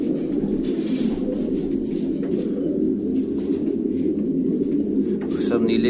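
Fighter pigeons kept for sale in Quetta coo steadily throughout, a dense, continuous murmur of many birds close by with faint voices underneath.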